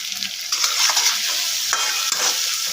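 Biryani spice masala with salt frying in a pan, a steady close sizzle broken by repeated scraping stir strokes, with no voices.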